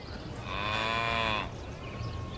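A single drawn-out cow moo rises clearly for about a second, a rich harmonic low call close by over faint background ambience, then fades.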